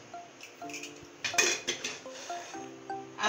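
A pressure cooker lid is opened after chicken khichuri has cooked in it, giving a series of light metallic clanks and clinks, with a brighter rattle near the middle, close by in a quiet kitchen.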